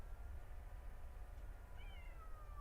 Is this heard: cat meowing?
yes